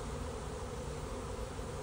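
A honey bee swarm moving into a top bar hive, heard as a dense, continuous buzzing hum of many insects, steady and fairly close, with no voices.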